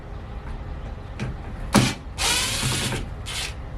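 An impact driver backing star screws out under a metal roof, short buzzing whirs of the tool, one brief burst then a longer run and a final short one, close and fairly loud against a quiet background.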